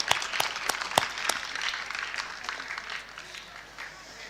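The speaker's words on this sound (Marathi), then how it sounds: "याच्यासाठी एकदा जोरदार टाळ्या सगळ्यांनी वाजवाव्यात" An audience at a speech breaks into applause, a few sharp individual claps at first blending into a thick wash of clapping that gradually fades.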